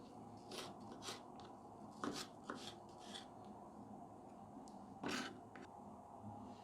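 A knife cuts onions into large chunks on a board, ready for a restaurant-style red lentil soup; a few quiet, irregular chops and scraping rubs, close by and otherwise quiet.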